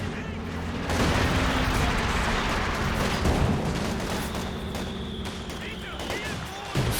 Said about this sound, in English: Mortar shells flying.